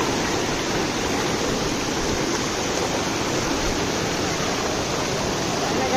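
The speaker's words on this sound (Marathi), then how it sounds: "असं पाणी आहे. पाण्याचा वेग जरा जास्तच आहे." Fast-flowing water at Kalu waterfall, Malshej, roars as a dense, constant rush. It stays loud and unbroken from start to finish with no voices.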